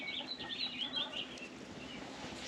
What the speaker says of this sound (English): Chickens have made their way around.